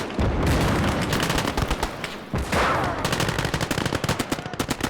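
Dense, continuous small-arms fire from MKB / StG-44 assault rifles rattles through a video game battle of dismounted German infantry during Operation Spring Awakening, with rapid overlapping bursts and loud, close shots layered over a distant roar of combat.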